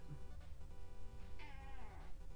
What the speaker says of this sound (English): Oh god, here comes my cat.